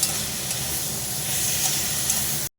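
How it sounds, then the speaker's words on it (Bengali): Potatoes frying in a spiced pan with chilli paste, a steady broadband sizzle that holds evenly and close for a couple of seconds, then cuts off abruptly. "আলুটা বেশ সুন্দর ভাজা হয়ে গেছে"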